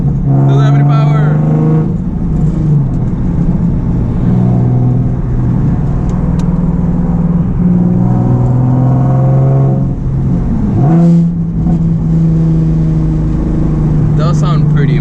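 A straight-piped Nissan 370Z's V6 exhaust roars loudly from inside the cabin, climbing in pitch through hard accelerations and gear changes while occupants talk over the drone.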